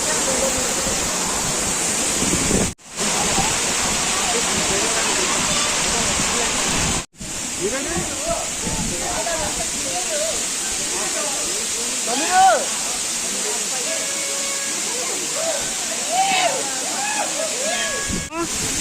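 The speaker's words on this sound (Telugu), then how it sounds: "వాటర్ ఫాల్స్ చూసుకుంటే చాలా అద్భుతంగా ఉందండి." A loud, continuous roar of Katika waterfall in Araku fills the scene, steady and rushing, with scattered voices and shouts of many bathers nearby heard over it.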